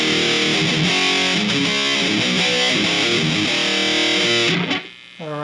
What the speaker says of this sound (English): we're done with the overdrive distortion